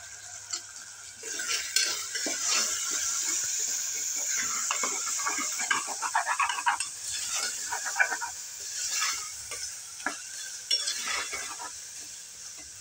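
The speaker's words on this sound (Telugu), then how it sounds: "మీడియం ఫ్లేమ్ మీద వీటిని ఈ విధంగా ఫ్రై అవనిద్దామండి" Vegetables fry with salt, chili and turmeric in a pan over medium flame for vegetable biryani, giving a steady sizzle broken by repeated scraping stirs of a spoon against the pan.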